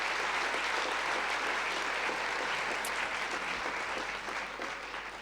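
Crowd at an award ceremony applauding a prize winner, dense sustained clapping from many people that stays loud and even, easing off slightly at the end.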